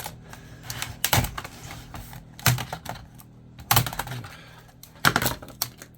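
A keyboard being ripped off a scrap smoker's PC: four sharp plastic cracks and clatters land roughly a second apart, with small rattles in between, close and fairly loud.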